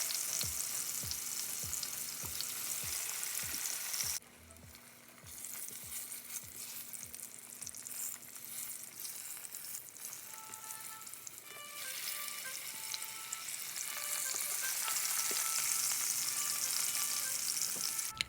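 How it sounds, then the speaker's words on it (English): Sweet plantains sizzle and crackle steadily in hot oil in a pan, with occasional clinks and scrapes of a utensil and no voices. "I am making some fried sweet plantains"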